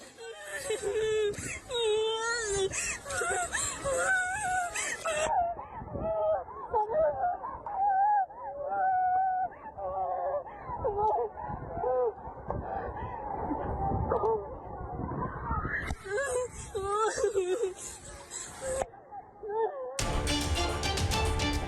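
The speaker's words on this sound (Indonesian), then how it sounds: "Teriakan dan tangisan terdengar dari laut dan di atas kapal" Many people screaming, wailing and crying together as a passenger ship burns at sea, a chaotic, sustained outburst, loud throughout with a brief break near the end.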